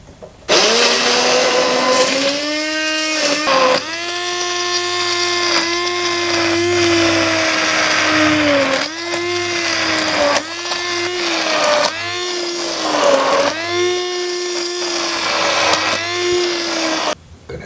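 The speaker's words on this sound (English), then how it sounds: "with my hand blender I'm gonna make this into a soup" A hand blender whirs loudly and continuously, its motor pitch rising and dipping in repeated bursts as it purees green pea soup, with brief pauses between runs.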